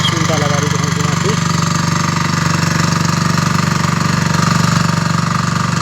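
A tractor engine idling nearby with an even, pulsing diesel chug throughout, while a voice speaks briefly over it.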